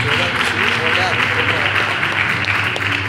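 A church congregation at a Sunday meeting claps steadily throughout, a dense wash of hand claps with voices mixed in underneath.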